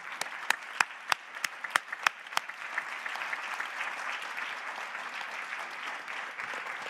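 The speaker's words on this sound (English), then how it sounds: "So why don't we give ourselves a round of applause." A room full of people at a university thesis competition final applauds steadily, with sharp individual claps standing out at first before the clapping settles into an even wash.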